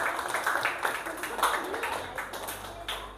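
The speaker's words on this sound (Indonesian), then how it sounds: "Kita kasih tepuk tangan" A classroom of students gives a short burst of scattered clapping for a classmate, uneven and fairly close, with speech mixed in.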